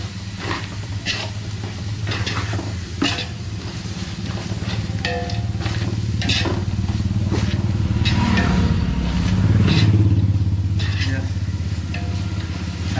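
Chicken biryani gravy sizzles in a pot while being stirred, a continuous frying hiss with repeated scraping strokes, close up and loud, with a low rumble underneath.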